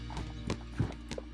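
Hoofbeats of a reining-trained show horse moving under saddle through walk, trot and canter transitions, a few soft thuds spaced irregularly at close range with a low steady hum beneath.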